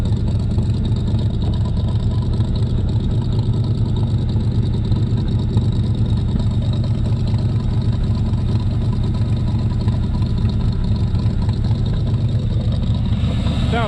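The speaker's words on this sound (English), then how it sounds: "Car sounds awesome" A cheaply bought third-generation Camaro's engine runs steadily for the whole stretch, a loud, close, continuous low rumble with an even throbbing pulse and no revving or voices.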